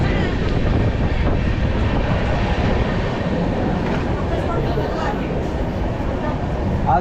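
Constant rumbling and rattling from inside a moving, lightly crowded passenger train heading toward Panvel and the Konkan, steady for the whole stretch, with voices faintly mixed underneath.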